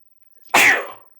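A single sharp sneeze from a woman, a sudden loud burst that trails off quickly, alone and close.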